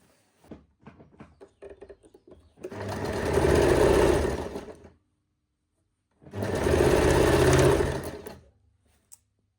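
A sewing machine stitches the heavy flared skirt onto a double umbrella frock in two long continuous runs of loud whirring, each a few seconds long, separated by a pause, with light clicks of fabric handling beforehand.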